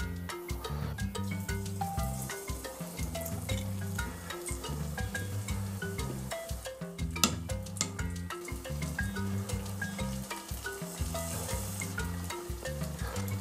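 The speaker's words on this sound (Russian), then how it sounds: "Жарим до приятного золотистого оттенка кляра." Fish in batter fries in hot oil at 190 degrees with a dense, steady sizzle and crackle, punctuated by small pops and drips throughout.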